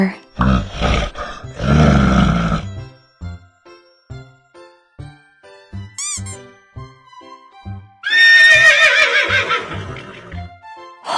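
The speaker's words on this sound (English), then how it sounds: "Horse." A horse whinnies loudly at the start, followed by a stretch of sparse clicks and a short squeak, then a second long, shrill neigh near the end in a children's animal-sounds lesson.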